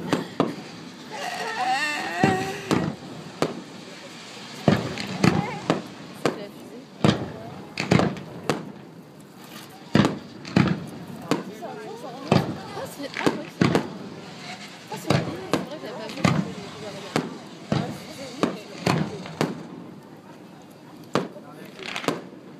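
Fireworks display over Monaco: a long run of sharp bangs and crackling bursts, some close together and some spaced out, with people chatting over them.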